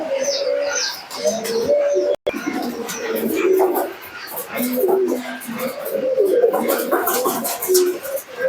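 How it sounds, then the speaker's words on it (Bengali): Teddy pigeons perched on a tin roof coo in repeated low, throaty phrases close by, with chirps and a brief dropout partway through, while a person talks intermittently over them. "চালের উপরে আছে টিনের চালের উপরে তাই দাঁড়ানো দেখুন কবুতরগুলো"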